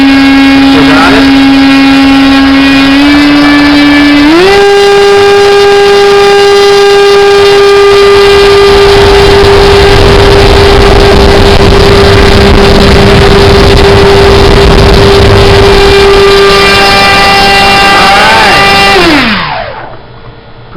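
A small electric motor on its first bench test whines loudly and steadily, stepping up in pitch twice early on, holding a high sustained tone, then spinning down and stopping near the end.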